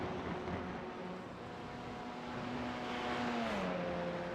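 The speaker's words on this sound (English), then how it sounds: "Some cars buzzing past the camera through turn 9" Race cars in TCR sim racing at Road America, including two Hyundais, buzz past through turn 9, a steady engine drone with a pitch drop as they pass, moderately loud and without talk.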